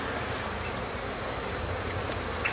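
Bees from an angry hive with many queens buzz in a steady, dense drone, fairly faint, with a single higher whine passing briefly near the end.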